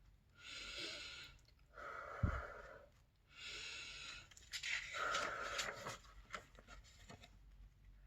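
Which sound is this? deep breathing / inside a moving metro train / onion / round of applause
deep breathing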